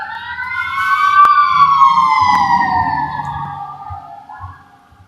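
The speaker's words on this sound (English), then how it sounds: "Those sirens are really about to do nothing." A loud emergency siren wails nearby, sweeping up then gliding down over several seconds before fading, with low road rumble and a couple of sharp knocks beneath it.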